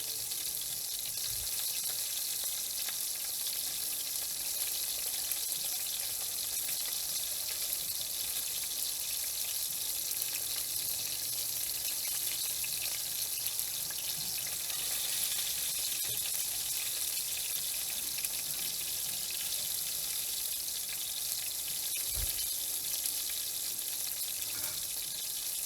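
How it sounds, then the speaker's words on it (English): Rice is rinsed with water in a steady, hissing wash that goes on unchanged for the whole stretch, close and even, with a couple of soft knocks and no talking. "Remember, always rinse off your rice."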